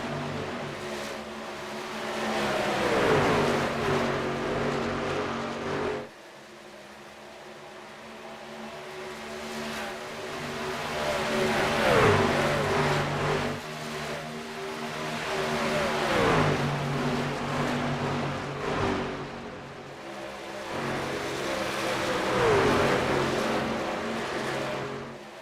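Racing trucks in the NSRL ONE3 Speed Truck Series roar past in a loud, sustained pack, engines revving and downshifting in repeated rising and falling sweeps with no talk over them.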